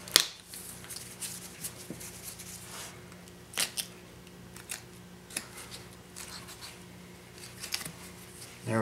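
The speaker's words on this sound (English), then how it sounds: "just to cut that fur free" Knife cutting fur free along the edge of a beaver pelt during skinning, heard as faint scattered snips and crisp scraping ticks over a quiet room background, with a few sharper clicks.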